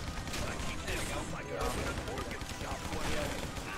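Shotgun fire in a chaotic video game firefight, dense bursts of gunshots and mechanical clatter overlapping at steady loudness, with excited voices talking over the action throughout.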